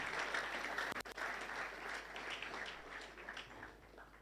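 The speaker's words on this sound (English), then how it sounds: "Prof, another round of applause for Prof." An audience at a youth entrepreneurship and leadership event applauds a professor, a fairly faint, steady wash of clapping from a crowd that continues throughout with no talking.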